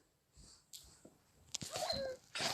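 A dog in the Minecraft video game gives a few short, close whimpering yelps, separated by brief pauses and growing louder toward the end.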